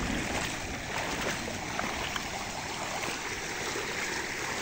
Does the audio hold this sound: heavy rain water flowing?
yes